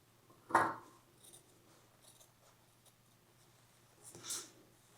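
Scissors cutting fabric for a sewn make-up bag, a sharp close snip followed by soft faint rustles and a second snip a few seconds later, quiet room, no talk.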